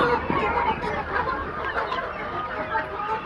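Laying hens on a commercial egg farm cluck and squawk together in a busy, close chorus while waiting for their morning feed.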